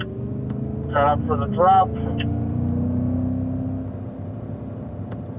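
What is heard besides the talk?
Cadillac CTS-V accelerating on a race track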